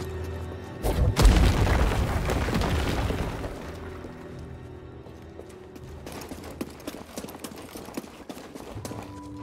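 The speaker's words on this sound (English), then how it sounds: "this guy comes back and shoots me from behind with his missile launcher" A missile launcher blast in the video game Star Wars Jedi: Fallen Order, a loud booming explosion that rumbles for a couple of seconds before fading into quieter game sounds and scattered clicks.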